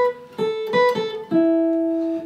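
A guitar plays a melody on its top strings, a short run of clear plucked single notes ending on a held, ringing note, close and alone.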